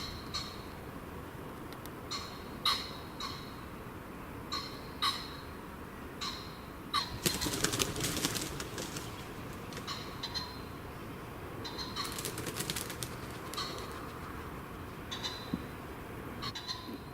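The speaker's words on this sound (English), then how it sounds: "Beautiful sound of the pheasant going to roost at night." Pheasants calling as they go to roost in winter woodland at night, a series of sharp, far-off squawking calls spaced every second or so over a hiss of background noise, with one louder burst midway.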